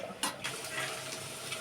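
Onions and green chillies frying in a pan, a quiet steady sizzle with a brief stirring scrape near the start, heard up close and alone.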